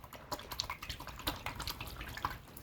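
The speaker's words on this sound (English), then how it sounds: "I'm gonna clean my brush off." A paintbrush is rinsed in a container of water, giving soft irregular sloshing and dripping splashes at close range with no talking.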